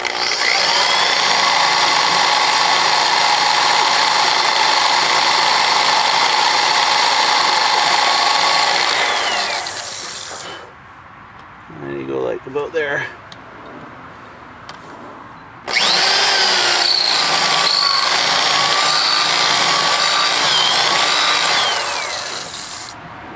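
A power drill fitted with a cheap bit bores into a road wheel part, grinding loudly and steadily for about ten seconds, dropping to a few faint scrapes and taps, then running loud and continuous again to the end.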